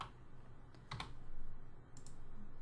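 A few quick computer keyboard keystrokes, short clustered clicks around the one- and two-second marks, heard faintly over a low background hum while a material name is typed in Revit software.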